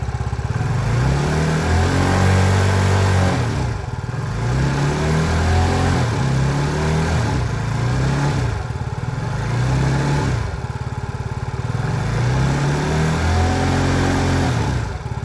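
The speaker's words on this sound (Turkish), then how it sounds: "Bir gaz verelim bir egzozu dinletelim." A Mondial Virago 50 motorcycle's exhaust revs repeatedly, several rising throttle blips over a steady idle, loud and close with no talking.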